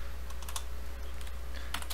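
Quick bursts of computer-keyboard typing while renaming a layer in GIMP 2.8.10, a few clustered key clicks over a steady low hum, close and without speech.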